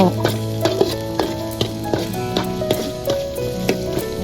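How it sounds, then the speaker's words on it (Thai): Shallots stir-fry in a pan with chilies, giving a steady close sizzle broken by regular scraping and tapping of the spatula, with no voices. "ผัดหอมแดงให้มันสุกแหมน้อยเจ้า"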